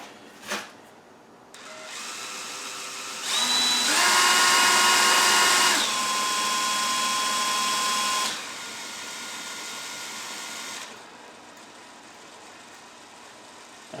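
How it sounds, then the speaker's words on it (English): A power drill spinning a Land Rover speedometer cable whirs up to a high steady spin, holds for several seconds, then winds down to a lower hum before stopping. "my drill's only doing a few turns"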